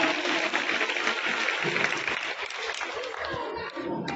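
Schoolchildren at a girls' government higher secondary school in Khargapur, Tikamgarh, applaud steadily through a motivational event, a dense wash of clapping that holds at an even level with some voices mixed in.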